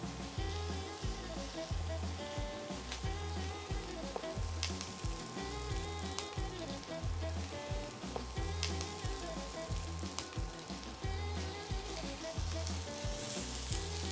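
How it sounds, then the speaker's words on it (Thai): Chicken drumsticks sear in a non-stick Teflon-coated pan, a dense, steady sizzle and crackle of frying that runs loud and unbroken throughout with no voices. "เราจะย่างไก่หรือกริลในเตาแบบนี้นะคะจนกระทั่งตัวของหนังไก่เริ่มมีสีเหลืองนะคะ"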